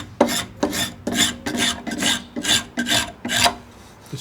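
A hand tool rasps across wood clamped on a shaving horse, working like coarse sandpaper in 1700s frontier woodworking; eight steady, close strokes repeat in an even rhythm with no talk.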